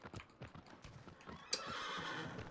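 Hooves clip-clop in a steady galloping rhythm from a horse in the video game Shadow of the Colossus (2018), broken by a sharp loud whinny partway through that gives way to a sustained bright rush of sound.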